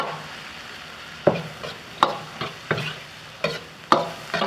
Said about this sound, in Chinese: 要这样炒出油渣才脆。